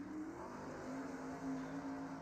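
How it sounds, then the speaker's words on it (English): Race cars rolling out onto the Coast2Coast Speedway track during an intermission, a steady distant engine drone with a faint tonal whine, continuous and fairly quiet with no talk. "got cars headed out on the track here during this Coast2Coast Speedway intermission"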